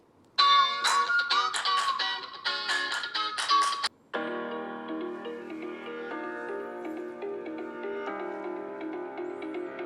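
An OPPO Pad Air tablet speaker plays music: a few seconds of bright, choppy chime-like notes give way to a steadier, sustained melody with layered tones, clear and fairly loud throughout.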